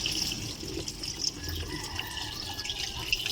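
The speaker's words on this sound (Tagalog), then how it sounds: "Ayan lumalabas na yung tubig dito" Water drains from a White Westinghouse washing machine that had trouble draining, a faint steady trickle and dripping heard up close in a quiet room.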